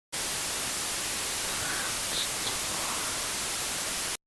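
Steady broadband white noise static runs unbroken at an even level for about four seconds, with no voices or other sounds standing out.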